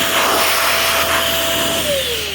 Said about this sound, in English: I also use this little portable blower